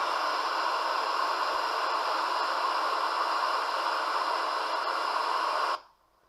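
White noise plays from a recording as a steady, even hiss held at constant level for several seconds before cutting off sharply into near silence.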